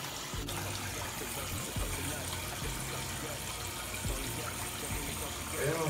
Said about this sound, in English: go ahead, wash your face off.